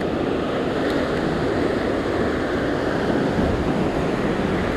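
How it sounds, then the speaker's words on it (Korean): Sea waves wash steadily onto a rocky fishing shore in a continuous broad roar, with wind buffeting the microphone and no distinct breaks between swells. "파도가 조금 잔잔할 때 캐스팅."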